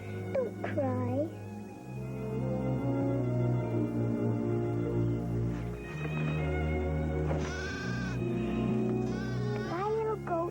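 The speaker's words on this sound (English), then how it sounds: "Oh, that poor little goat." A little goat bleats in a series of wavering, tonal cries over a sustained orchestral music bed, fairly close and loud.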